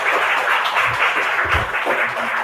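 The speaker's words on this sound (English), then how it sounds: "Let's give him a round of applause." A large crowd at an International Women's Day event in Manila gives a speaker steady, dense applause, a loud continuous wash of many hands clapping with a faint murmur underneath.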